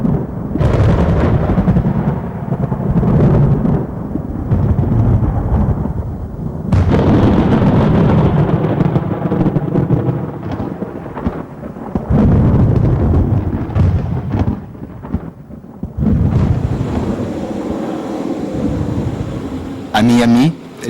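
Thunder from an Atlantic thunderstorm strengthening into a hurricane, loud deep booming rumbles and crashes that come in long waves and end in a sharp crackling burst.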